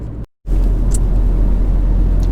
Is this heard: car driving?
yes